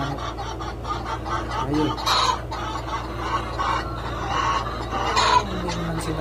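Free range chickens clucking steadily on a farm, with a rooster crowing once, the flock close and busy over a constant low hum while someone speaks briefly.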